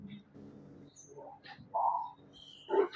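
Birds chirping in short, scattered calls, a few close bright tweets and warbling notes over a quiet background, with a low voice murmuring faintly beneath.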